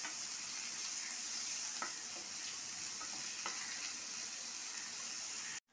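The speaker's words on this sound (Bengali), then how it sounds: "আমার আদা রসুন দিয়ে পেঁয়াজ দিয়ে খুব ভালো করে এটা ভাজা হয়ে গেছে।" Onion, ginger-garlic paste and a green chili frying in a pan for fish kofta curry give a steady close sizzle, with a few soft stirring scrapes and clinks. There is no talk, and the sound stops abruptly at the end.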